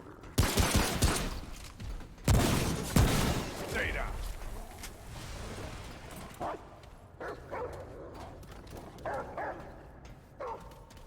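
A companion dog barks repeatedly in Remnant: From the Ashes, loud sharp barks up front followed by scattered quieter yips, with game combat noise and someone talking over the action.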